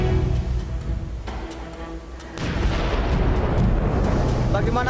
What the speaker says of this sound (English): Those are bombs. Did you hear? Those are bombs.